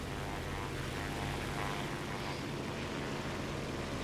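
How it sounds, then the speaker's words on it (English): Propeller aircraft engine droning steadily overhead during a War Thunder ground battle, likely the I-153P fighter, a continuous mid-distance hum holding level throughout without speech. "I hear a plane."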